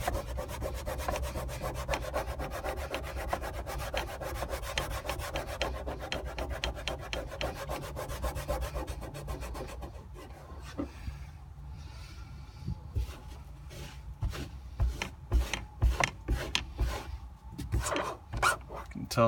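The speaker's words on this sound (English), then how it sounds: "I'll pretty much scrub it vigorously." A microfiber cloth soaked in alcohol scrubs vigorously at a surface while removing a mounting plate, giving a steady, close rubbing that goes on continuously and then turns into short, choppy strokes toward the end.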